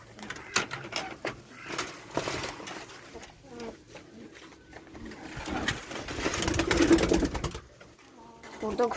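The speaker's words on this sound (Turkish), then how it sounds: "Gedək size kuşlarımı göstereyim." Pigeons cooing in a loft, soft rounded coos close by, mixed with rustling and handling noise while someone talks over them.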